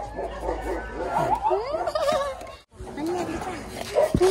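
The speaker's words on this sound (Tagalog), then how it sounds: "Naririnig mo yung tahol?" A husky puppy barks and yips in short bursts while people talk and laugh nearby.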